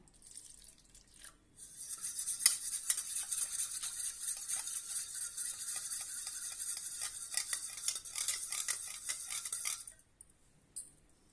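A whisk beats curd and water rapidly against the side of a bowl, producing a fast, continuous clinking and scraping for several seconds before stopping.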